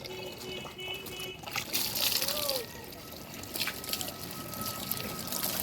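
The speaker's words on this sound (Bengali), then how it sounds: "পরে তো পানি দিতে হয়। এই যে সেটা ভর্তি হয়েছে মনে হচ্ছে।" Water poured from a container into a potted chili plant on a rooftop or balcony, a steady trickling splash with gurgling as the pot fills, continuous for several seconds.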